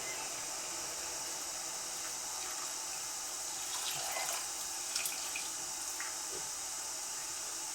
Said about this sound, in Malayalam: ഇനി നമുക്ക് ഉണ്ടാക്കി വെച്ചിരിക്കുന്ന ശർക്കരപ്പാനി ഇതിലേക്ക് ഒഴിച്ചു കൊടുക്കാം